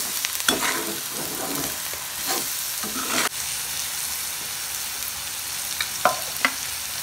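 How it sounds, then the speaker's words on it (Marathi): Onions with Malvani masala, turmeric, hing and salt being stirred in a pan, frying with a continuous sizzle and intermittent sharp spoon scrapes and knocks, close and without talk. "मालवणी मसाला, हळद, हिंग आणि मीठ, हे आता त्या कांद्यामध्ये टाकून व्यवस्थित चांगल्या प्रकारे मिक्स करून"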